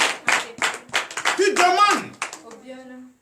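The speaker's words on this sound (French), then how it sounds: "Donnez l'acclamation au Seigneur Jésus." A church congregation in Benin claps in acclamation during a night deliverance service, loud, rhythmic bursts of clapping near at hand, mixed with voices before it tapers off.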